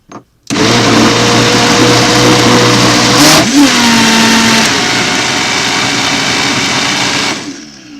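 A powerful Vitamix blender roars loudly at full speed for several seconds, its pitch shifting as the load changes, then winds down to stop.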